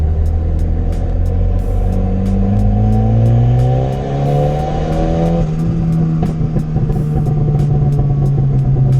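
A big-turbo Volvo car accelerates hard under boost, its engine note rising steadily through the gears with a loud, close rumble and rhythmic clicking ticks over the top.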